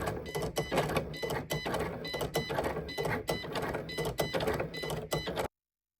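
A Cricut Explore Air 2 vinyl cutter cuts flock material on a mat, giving a steady, close mechanical whirring broken by rhythmic clicks and carriage shuttling, with no talking.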